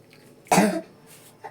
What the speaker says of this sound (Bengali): কেমন আমার কাশি শুরু হয়েছে।